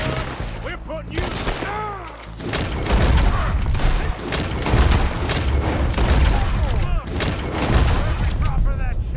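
Rapid gunfire in a Red Dead Redemption 2 shootout, with repeated loud shots and overlapping bursts running nearly continuously, mixed with shouting voices.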